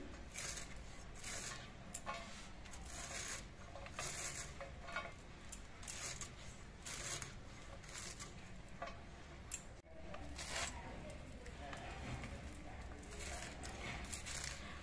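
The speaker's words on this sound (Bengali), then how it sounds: "আমি বটি দিয়ে কাটতে অভ্যস্ত বলে আমি বটি দিয়েই কাটছি" A bonti blade cuts red spinach leaves into thin shreds with steady, rapid rhythmic strokes against the blade, close and fairly loud throughout, with faint kitchen clatter in the background.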